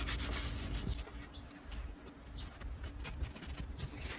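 Close, steady rubbing as orange-scented wax is worked into a wooden fishing rod holder, a soft dry scuffing that swells and eases in short strokes with no voices.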